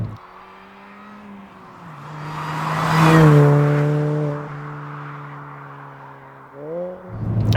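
An R53 MINI Cooper S engine revs up and down while driving, with a steady harmonic drone that swells to a loud peak midway, eases off, then climbs again near the end.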